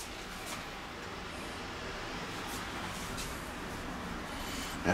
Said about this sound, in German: Und dann lassen wir das einmal so ein bisschen vor sich hin brutzeln.